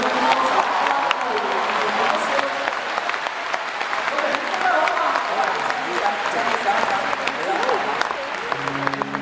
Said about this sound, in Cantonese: 大家俾多啲掌聲